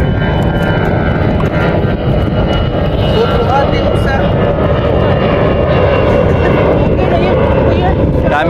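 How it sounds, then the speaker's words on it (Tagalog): A propeller airplane drones overhead at a beach during a shellfish-gathering outing in Cebu, a loud continuous engine roar that holds steady throughout, with people talking over it. "may aeroplano na naman duman"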